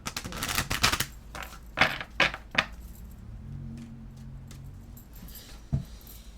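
A deck of tarot cards is shuffled and cut at close range: a quick flurry of sharp, papery riffles and snaps, a few separate taps, then a quiet stretch with one last click.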